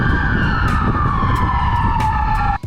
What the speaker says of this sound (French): La police américaine, quant à elle, est équipée de plusieurs sirènes, plusieurs tonalités